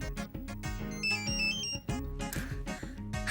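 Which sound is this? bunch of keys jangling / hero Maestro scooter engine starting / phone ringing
phone ringing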